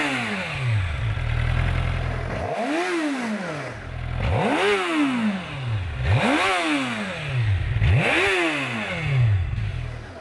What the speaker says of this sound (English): Let's go ahead, rev this thing up a little bit and see what we got.